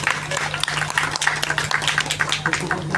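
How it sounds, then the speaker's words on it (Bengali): A crowd at a prize-giving during a school drama claps steadily, a moderate burst of many hands patting out uneven, overlapping beats across a few seconds. "সবাইকার হাতে পুরস্কার তুলে দিতে হাততালি"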